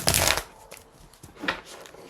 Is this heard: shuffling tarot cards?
yes